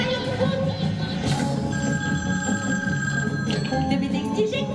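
A telephone bell rings steadily through a busy office scene, its tone sustained under a bed of background noise and murmur.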